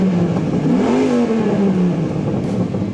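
The Viper engine of a Dodge Ram SRT10 pickup revs loudly and continuously close by, its deep roar rising and falling in pitch as the throttle is blipped.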